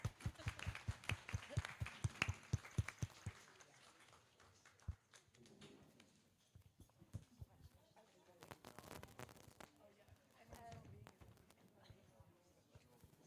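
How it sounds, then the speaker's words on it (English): A brief round of applause for a third place winner at a student council event, a dense burst of claps for about three seconds, followed by people talking. "So, if we could just have a round of applause, please."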